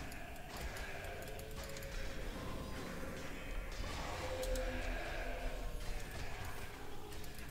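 Sheep bleating in the 2005 fantasy role-playing game The Bard's Tale, a cluster of faint wavering bleats mixed with clattering and mechanical game ambience, with no talking.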